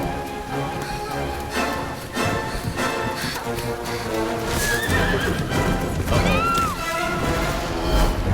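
A headless horseman's horse in Dragon Quest XI S neighs and whinnies over galloping clip-clop hooves, loud and close amid busy game music and effects.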